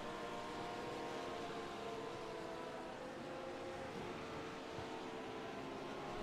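Race cars circulate the Hockenheim circuit in the iRacing sim during a six-hour endurance race, a dense, faint, droning blend of engines whining together without letup.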